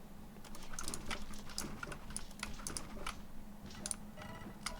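Computer keyboard typing, a close run of quick clicking keystrokes in uneven bursts that holds steady through the whole stretch, with no voices.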